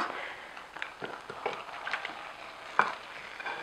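Vegan torta filling of spinach, potatoes and squash being stirred in a bowl, giving soft, irregular wet scraping and squelching strokes, close by and fairly quiet, with no talk.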